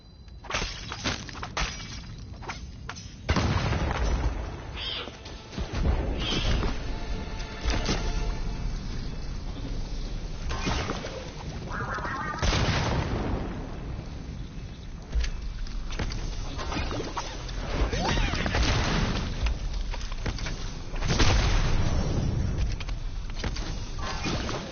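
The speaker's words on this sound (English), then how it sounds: "That's an obvious explosion, which lets us know what we're getting into." Explosions and crashes from the PSVR video game Moss come as a dense, loud run of bursts, shattering hits and rumbling impacts across the whole stretch, with no talking.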